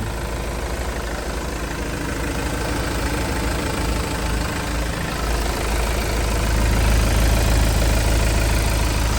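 A 2019 Iveco Daily 72c truck's diesel engine idles smoothly and steadily nearby, a low continuous rumble that grows slightly louder toward the end, with no voices.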